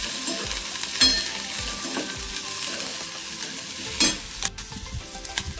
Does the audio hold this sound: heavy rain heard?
no